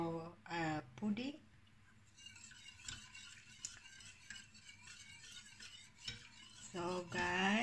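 A spoon stirs pudding mixture in a pot, with soft scraping and the odd clink against the metal in a steady stretch between bursts of a speaking voice at the start and the end.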